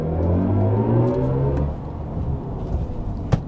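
BMW i5 M60 electric car accelerating, a rising whine and road rumble heard from inside the cabin, strong at first then easing into steady tire noise with a brief thump near the end.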